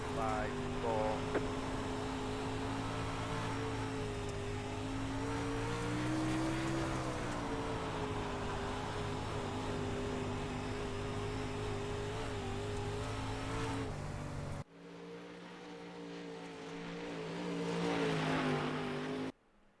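Race cars at Volusia dirt track run continuously with engine drone rising and falling as they accelerate and pass, loud and close, then abruptly cut to a thinner, more distant engine sound with a surge near the end.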